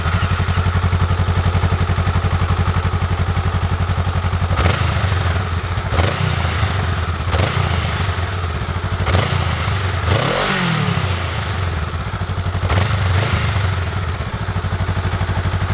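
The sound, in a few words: Honda Rebel 500 motorcycle with stock exhaust running and revving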